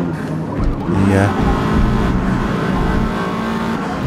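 A Mazda RX-7 rotary engine in Forza Motorsport hums continuously at close range, a buzzy, whirring race-car drone that stays loud and even while someone talks over it.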